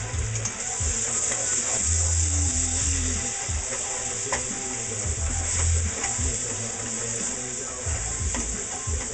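Chili with bacon being stirred in a pan on a home stove, a steady sizzle and frying hiss throughout with scraping stir strokes and low rumbling handling noise, fairly close.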